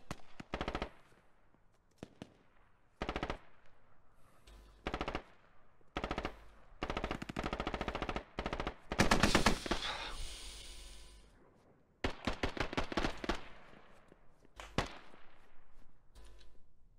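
Machine gun fire in the video game Squad comes in repeated bursts, some short and some long, separated by brief quiet gaps, loud and close with no talking.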